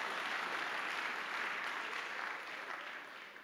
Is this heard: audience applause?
yes